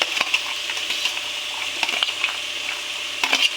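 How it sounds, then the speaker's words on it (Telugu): Radish pieces and green chillies fry in a pan for a radish pickle, a bright close sizzle with repeated stirring scrapes and clicks of a spatula, no voices. "ముల్లంగి మనకి త్వరగా వేగదు, ఎక్కువ టైం పడుతుంది కొంచెం, కానీ బాగా వేపుకోవాలి."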